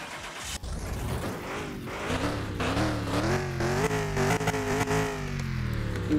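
An engine starts up in Car Mechanic Simulator 2021 and revs steadily, its pitch climbing and wavering as the throttle is worked, loud and close throughout with no talking.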